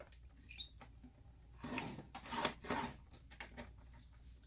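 Paper is scored at half an inch from each end on a Stampin' paper trimmer, giving soft, close scraping and rubbing strokes with a few light taps, fairly quiet throughout.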